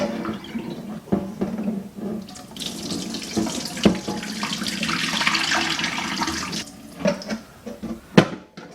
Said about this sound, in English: rinse and drain this water out